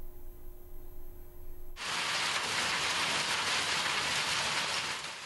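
Rain starts suddenly after a quieter hum and then pours steadily, a dense, loud, even hiss of falling water that holds without a break.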